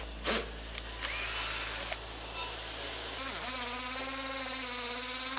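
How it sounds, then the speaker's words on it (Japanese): A power drill bores holes through four stacked wooden boards for a shelf build, whining steadily and loudly at close range, with a few brief bumps at the start. "でこれまとめて穴を開けてますね。"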